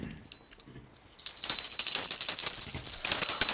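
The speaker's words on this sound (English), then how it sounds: "please ring the bell as you do so" Hand bell rung during the Aratrikam lamp offering to Swamiji's form, a steady bright tinkling ring that starts after a near-silent moment and continues rapidly to the end.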